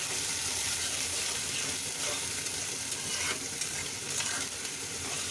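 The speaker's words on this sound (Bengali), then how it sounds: "এখন হচ্ছে আমি যে তেলের মধ্যেই চিংড়ি মাছগুলো দিয়ে দিলাম।" Shrimp sizzle steadily in hot oil in a home kitchen pan, a constant close frying hiss with faint stirring, no talking.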